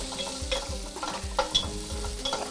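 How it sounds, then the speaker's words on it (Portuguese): Bacon frying in a pan with a little oil, giving a steady close crackling sizzle with sharp pops and spatters throughout, no voices. "Nós vamos dar uma fritada rápida no bacon aqui"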